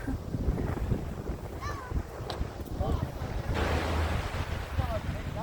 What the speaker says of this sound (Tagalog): Nakakatuwa talagang maglaro sa mga alon.